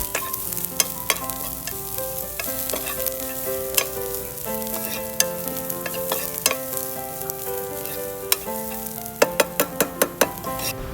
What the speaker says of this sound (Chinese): 接下来我们慢慢炒